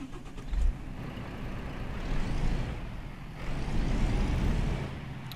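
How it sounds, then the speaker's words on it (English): A heavy truck engine starts in a truck-driving game set on a Northern Scandinavia map, then settles into a steady, loud low rumble that swells twice over several seconds, with a hiss of air near the start and no voices. "so let's fire up the truck here."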